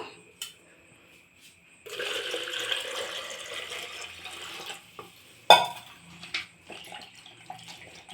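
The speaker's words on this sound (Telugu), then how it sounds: "ఇప్పుడు వాటర్ పోసేసుకుందాము" Water is poured into blended homemade buttermilk in a kitchen, with a few short splashes and then a sustained pouring stream lasting several seconds, followed by separate splashes and sloshing nearby.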